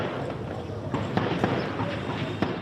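Volley of gunfire during gang fighting in Port-au-Prince, Haiti, a series of sharp, distant cracks spaced irregularly over a rumbling background.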